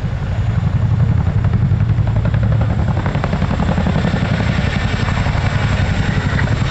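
RAF Chinook helicopter flying at the Cosford air show, its twin rotors thudding loudly and steadily with a constant heavy engine roar throughout.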